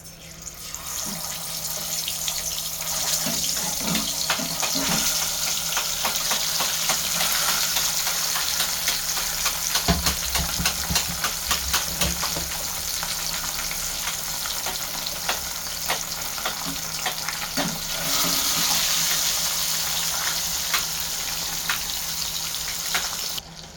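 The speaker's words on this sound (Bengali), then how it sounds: "তেলটা গরম হয়ে গেছে এখন ডেলে দেবো মাছ" Fish fries in hot oil for a fish bhuna, a loud continuous sizzle that holds steady and close with a few faint crackles and no talking.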